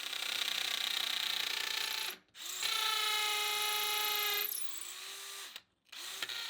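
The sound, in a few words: hammer drill drilling holes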